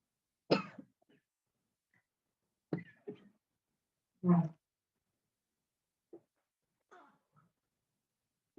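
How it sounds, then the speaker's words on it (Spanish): Several separate coughs and throat-clearing sounds spaced apart, fairly close, with quiet gaps between them. "estoy dando como un poquito de tos"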